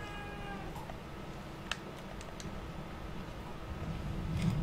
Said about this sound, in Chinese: 去看一下猫咪